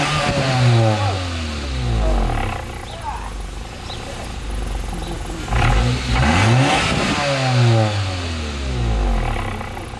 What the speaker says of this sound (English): So I'm just gonna definitely do the sound test on this muffler and my old muffler down there